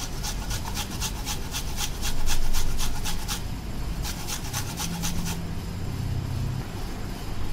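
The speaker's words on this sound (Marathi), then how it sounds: "त्यामुळे अर्धी कैरी मी किसून घेते" Half a raw green mango grated by hand, a close, rapid series of scraping rasps in quick rhythmic strokes, pausing briefly then resuming, over steady low kitchen background noise.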